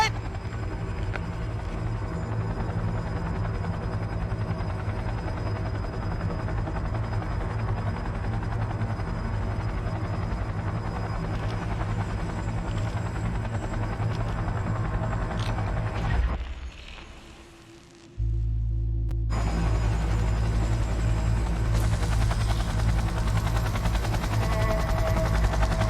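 An aircraft in Cyberpunk 2077 takes off and flies with a loud, continuous rotor-like engine roar. The sound drops out briefly in the middle, then returns at full strength with a higher whine on top.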